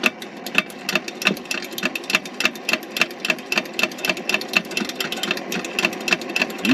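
A tiny hand pump pressurises a travel picnic stove in quick repeated strokes, a rhythmic squeaky rasping pulse of roughly two to three pumps a second, close and fairly loud, with no voices.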